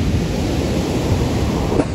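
A sudden storm wave breaks on the shore at Sochi, a loud, dense roar of surf and wind up close with a slight surge near the end and no voices.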